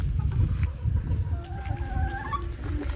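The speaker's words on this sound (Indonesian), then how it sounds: "Ini lagi lihat ayam-ayam." Chickens cluck and call faintly in a backyard coop among trees, under a steady low rumble of outdoor background noise, with a few thin high calls.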